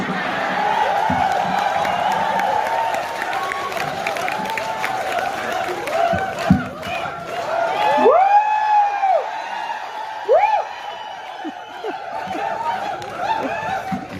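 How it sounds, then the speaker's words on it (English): A stand-up comedy audience clapping and chuckling as a woman from Korea is invited onto the stage, a dense wash of applause with scattered snickers and laughter, swelling and easing across the clip, with a voice talking over parts of it. "I'm requesting everyone to clap so that she will have a little bit confident to come on the stage"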